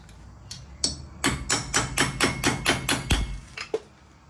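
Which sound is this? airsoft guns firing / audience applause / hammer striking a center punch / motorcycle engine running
hammer striking a center punch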